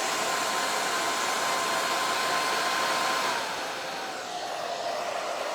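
A hair dryer blows steadily on a craft decoration, a constant close whooshing hiss that dips slightly in strength near the end.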